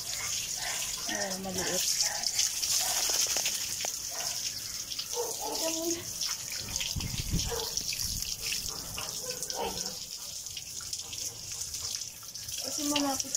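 Water runs from a tap into a tub to bathe a Chow Spitz dog, a steady splashing gush under intermittent talking voices.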